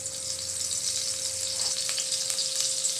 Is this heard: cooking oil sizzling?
yes